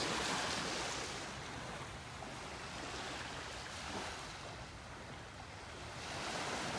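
Small waves wash onto a beach in North Naples, Florida, a soft continuous surf hiss that swells and recedes gently, with light wind and no voices.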